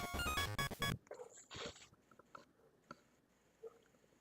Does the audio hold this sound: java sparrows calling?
no